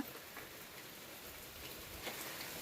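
Rain falls on a terrace garden as a steady, even patter of drops, soft but continuous, with no talking.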